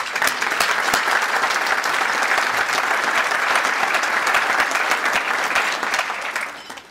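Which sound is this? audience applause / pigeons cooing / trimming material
audience applause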